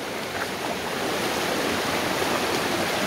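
Water rushing along the Diamante river in El Salvador, a loud, steady broadband wash with no break and no voices.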